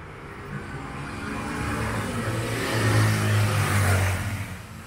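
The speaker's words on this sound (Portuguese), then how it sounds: "As motos barulhentas, né?" Motor vehicle engines revving and accelerating along a busy city street in central Sorocaba, Brazil, with a steady mid-level drone that swells in the middle as a noisy motorcycle or car passes close by, then fades slightly.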